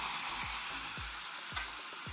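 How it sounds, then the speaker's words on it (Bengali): Sliced taro (sola kochu) sautés in a pan with a dense, loud sizzle throughout, broken by several rhythmic scraping strokes of a spatula as the pieces are stirred. "ভালো করে কষিয়ে নিচ্ছি"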